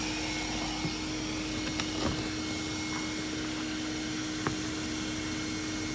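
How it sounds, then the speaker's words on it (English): A vacuum sucking up bees during a bee removal, a steady droning whine with a constant tone and a few faint clicks and knocks, no voices heard. "You want to suck them up? I'll suck the bees up."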